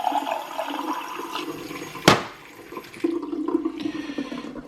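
Water rushes in while coffee is being made, a brief loud gush followed by gurgling and trickling water at close range, with no voices.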